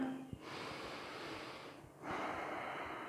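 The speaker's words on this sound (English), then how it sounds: "Let's take one more big breath here." A deep, slow breath during a yoga class: a long airy inhale, a brief pause, then a fuller exhale, soft and close with no talking.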